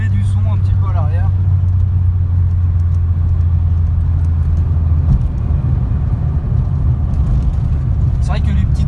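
A Peugeot 106 GTI S16 with a 120 hp engine drones loud and steady from the rear on a small country road, a constant low rumble with people talking over it.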